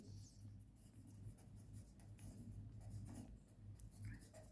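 A pen scratches on paper during a Class 10 maths lesson on triangles, giving quiet, continuous strokes close up over a low room hum.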